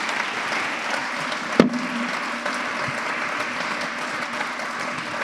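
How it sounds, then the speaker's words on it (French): Audience at the Swiss Who's Who Women Awards ceremony applauding honorees before they go on stage: dense, sustained clapping from a large hall crowd, with one sharp knock partway through and no talking. "Avant de monter sur scène, nous vous applaudissons encore."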